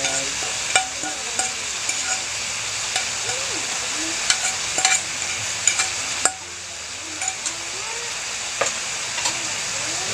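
Cabbage and scrambled egg stirred in a frying pan over a gas flame, a continuous close sizzle with repeated scraping and clinking of the spatula, no voices.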